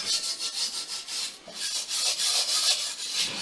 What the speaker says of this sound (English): It's a lot of scrubbing.